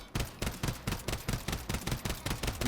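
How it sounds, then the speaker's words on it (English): Rapid automatic fire from an SVA 545 rifle in Warzone, a steady burst of about a dozen evenly spaced loud shots with no talking. "I'm gonna shoot as fast as I can."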